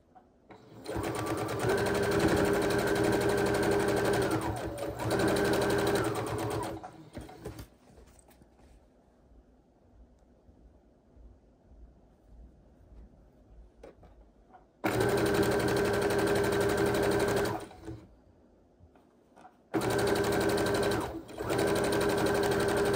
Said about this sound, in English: We need to sew on all four sides